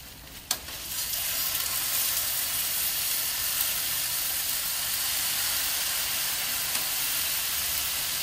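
Ten pounds of marinated carne asada sizzles on an outdoor grill in the rain at Mike's Diner: a steady, dense hiss throughout, with a sharp click near the start and no talking.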